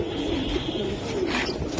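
Silver giribaz racing pigeons coo softly and continuously nearby, a low steady murmur with no voices over it.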